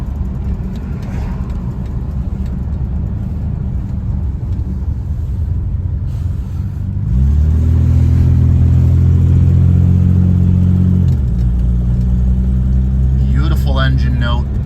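1956 Jaguar Mark VII M engine on a mixed drive, a steady low rumble from inside the car that swells into a louder, rising pull midway, then eases back, with brief clicks near the end.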